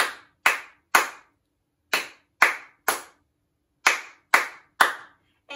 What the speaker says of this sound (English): Now how many? Three claps.